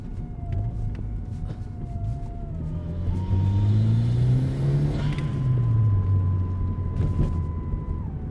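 A Porsche GT4 with a suspected fuel pump fault accelerates from inside the cabin, its engine note rising unevenly and sagging as it hesitates and bogs down, loud and steady throughout.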